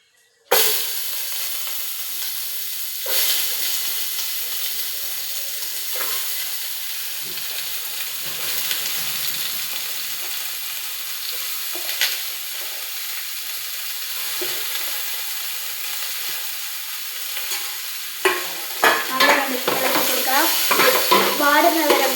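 Sliced onions for chicken curry hiss and sizzle steadily in a hot pan, with occasional stirring scrapes and a louder crackling burst near the end as they are moved around.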